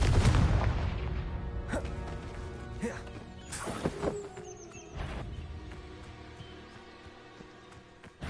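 A Confringo explosive spell blasting in Hogwarts Legacy on PS5, a loud booming burst at the start followed by several sharper crashing impacts and magical whooshes that trail off into quieter game ambience.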